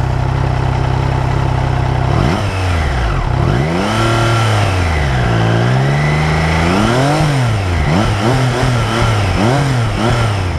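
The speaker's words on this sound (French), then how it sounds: "Je vais vous faire écouter un petit peu le son de cet échappement." A 2021 Triumph Trident 660 motorcycle runs alone and close, idling steadily at first, then rising through a series of strong revs with the exhaust note sweeping up and down repeatedly.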